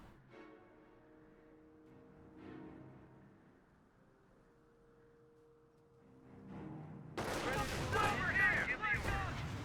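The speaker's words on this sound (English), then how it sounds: "MG42 firing away, suppresses the rifle squad there" An MG42 machine gun firing in a Company of Heroes battle, suppressing a rifle squad: a quiet, low rumbling battlefield ambience gives way to a loud, dense burst of rapid gunfire in the final few seconds.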